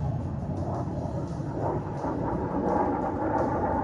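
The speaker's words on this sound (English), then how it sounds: "look high, right above your shoulder, as the aircraft dives to engage the enemy logistic area" Indian Air Force jet diving to bomb a target at a firepower demonstration in Pokhran, heard as a steady, broadband distant roar of aircraft engine that holds throughout.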